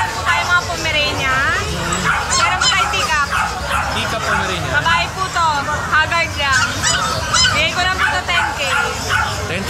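Many small Pomeranian dogs bark, yip and whimper in a dense overlapping chorus at a busy pet market, with crowd babble and people talking throughout.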